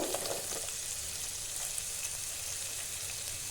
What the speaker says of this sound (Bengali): তো আমি মটরটা এখানে ঢেলে দিচ্ছি। বিনসটাও আমি ঢেলে দেব।